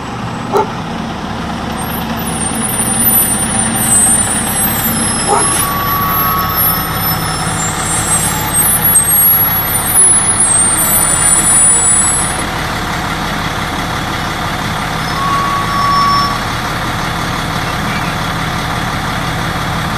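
An East Windsor vehicle in a Memorial Day parade in Cranbury rumbles with a steady truck engine idle, close and continuous, with faint high hissing and occasional short beeps over the drone.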